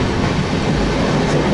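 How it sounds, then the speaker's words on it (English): An Indian sleeper class train runs on its journey, carrying a dense, continuous rumble and rattle of the rolling carriage, loud and close, with no voices. "So the train has started"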